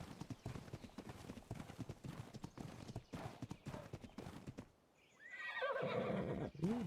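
In the ARK video game, a horse's hooves clip-clop briskly and steadily for about five seconds, then a loud, wavering neigh rings out after a brief pause, with no talk over it.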